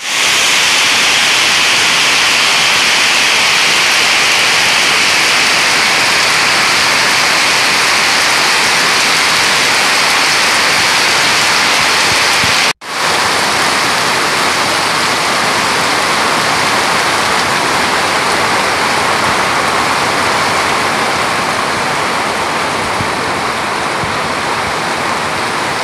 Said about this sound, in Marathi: एकदम जबरदस्त असा पाऊस पडतोय बघा